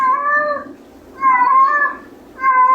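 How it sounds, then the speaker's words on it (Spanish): A female cat meows three times, close and loud, each call drawn out and tonal, separated by short quiet gaps. "Esa no es mi gata"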